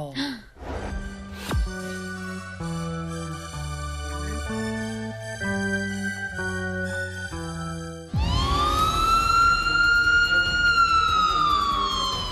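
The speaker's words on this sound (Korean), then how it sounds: "온 국민을 불안에 떨게 한 공습 경계 경보" Tonal electronic beeps and chimes give way to a loud wailing air raid warning siren in South Korea that rises and holds, sounding close and urgent.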